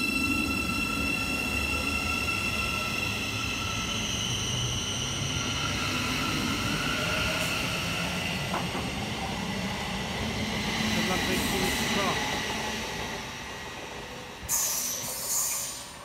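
Class 717 electric train pulling out from a station platform on a service to London King's Cross, a steady rumbling drone with rising motor whine, close and loud, fading toward the end, with a brief clunk near the finish.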